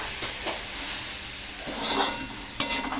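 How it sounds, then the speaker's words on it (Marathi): Tempering for gram-leaf greens sizzles in a bhakri griddle pan: a steady, close hiss with a sharp crackling burst near the end, no voices. "भाकरीच्या तव्यातच मी फोडणी टाकले"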